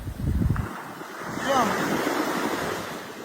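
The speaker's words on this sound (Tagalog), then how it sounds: "Wala pa rin talaga na yung tubig. Maabot na talaga din yung tubig. Yung alon." Sea waves wash up onto a beach with a steady broadband roar, swelling midway through, while gusts of wind buffet the microphone with low rumbles near the start.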